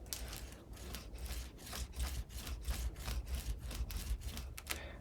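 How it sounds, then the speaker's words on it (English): A bone folder is rubbed firmly back and forth over paper while assembling a mini album, giving a steady run of close, scratchy strokes with a regular rhythm throughout. "So I'm going to take my bone folder and burnish."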